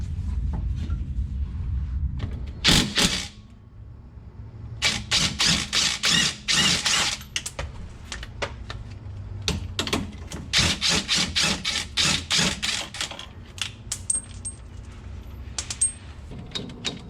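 Wrenches and an impact gun work the bolts on a car's rear sway bar during a UMI suspension upgrade. The clip is full of metallic clicking and ratcheting bursts, short rasping runs and tool clatter at close range, with no talking.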